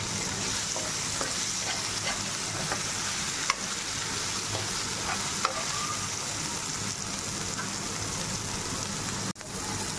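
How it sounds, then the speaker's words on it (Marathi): Tomato and ginger-garlic paste sauté in hot oil for a dhaba-style cauliflower and green pea curry, giving a continuous rain-like sizzle with scattered crackles and a couple of louder utensil knocks. "आलं लसूणची पेस्ट आता परतली आहे, यामध्ये मी टोमॅटो घालते।"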